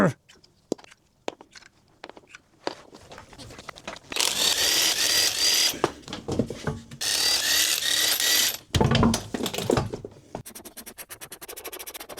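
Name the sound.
removing car wheels before putting car on jack stands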